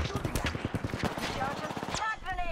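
Rapid bursts of gunfire in the Apex Legends video game, dense and loud, mixed with other game effects and a voice speaking over it.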